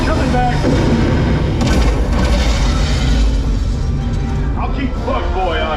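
Booming blasts of an alien ship's weapons fire rumble through an Independence Day: Defiance theme park ride, a dense, continuous barrage of low explosions mixed with loud effects and voices talking over them.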